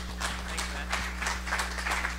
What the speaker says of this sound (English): let's get a round of applause, please